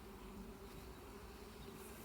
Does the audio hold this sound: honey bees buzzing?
yes